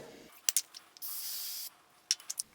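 A 3M brake cleaner aerosol sprays in one steady, close hiss lasting under a second, with sharp clicks and taps from handling the can before and after.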